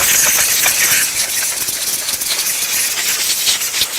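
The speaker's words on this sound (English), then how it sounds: "Compressed air will dry everything off." Compressed air blasts loudly to dry a Ford Edge tire, a harsh continuous hiss close to the nozzle with slight fluttering variations and no talking.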